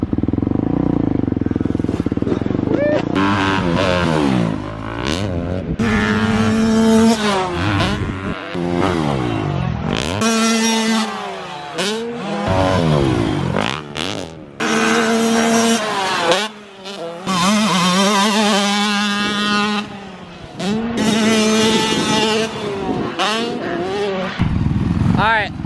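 A brand-new dirt bike with about three hours on it revs hard while riding laps on a track, its loud engine rising and falling through repeated throttle bursts and gear changes, with wind roar and occasional voices underneath.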